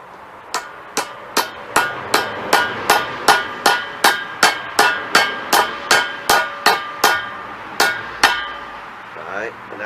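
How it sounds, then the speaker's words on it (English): A hammer strikes a vehicle U joint about twenty times in a steady rhythm, each blow a sharp, loud metallic clank, followed by a brief clatter at the end. "take this hammer here."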